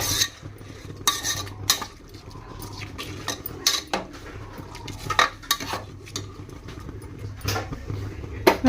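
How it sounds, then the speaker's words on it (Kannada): Sliced onions frying over a low gas flame as a spoon stirs and scrapes the pan, with irregular clinks and scrapes of metal over a quiet background hum. "ಉಳ್ಳಾಗಡ್ಡಿ ಫ್ರೈ ಯಾವುದು ಅಂತಂದ್ರೆ ನಾನು ಲೋ ಫ್ಲೇಮ್ದೊಳಗೆ ಇಟ್ಕೊಂಡೇನ್ರಿಪ್ಪ"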